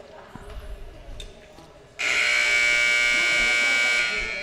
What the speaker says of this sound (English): So the buzzer, the reset,